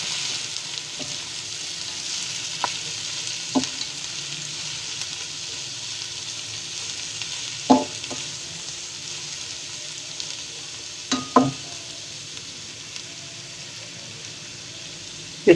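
Shredded cabbage frying in hot oil, a steady sizzle running throughout with a few sharp stirring clinks and scrapes now and then.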